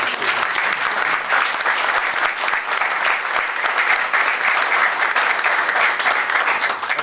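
An audience at a city council meeting claps for students in a dense, loud, sustained round of applause with no let-up and no voices over it.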